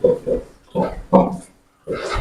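Short bursts of piglet grunts and squeals in a few clustered groups, separated by brief pauses, fairly close and moderately loud.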